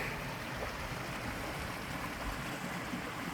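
Water flowing past granite boulders outdoors, a steady broadband rushing wash with no distinct events and no voices.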